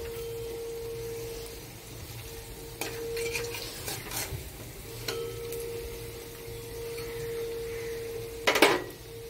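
Dried fish and taro stems fry quietly in a pan, with a soft sizzle under occasional scrapes and knocks of a utensil stirring against the metal, including a louder clatter near the end.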